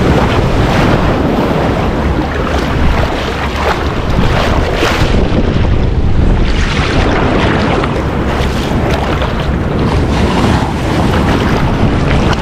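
Strong Pacific Ocean surf pounding a Hawaii beach, a loud, continuous wash of breaking waves with heavy wind buffeting the microphone, no voices heard.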